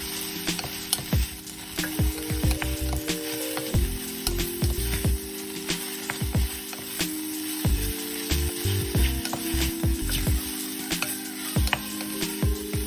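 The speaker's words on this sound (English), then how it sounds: "Add the sliced shiitake mushrooms and cook until tender." Sliced shiitake mushrooms sizzle in a pan for a creamy vegan mushroom soup, a steady moderate fry with repeated clicking stirs and scrapes, accompanied by a sustained background tone and no talking.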